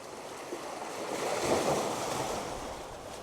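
Sea waves crashing against rocks on a beach, a steady broad wash of surf with one swell building and breaking midway, no talk.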